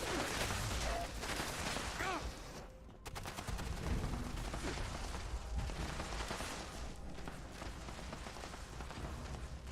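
Dense gunfire in the video game Fallout, continuous rapid bursts throughout, loud and close, with a brief drop near the three-second mark before the shooting resumes.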